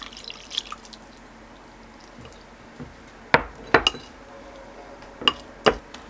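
Water is added to a cooking pot while making kimchi stew in a home kitchen: scattered drips and a few sharp metallic clinks and taps ring out over a quiet background, with no talking.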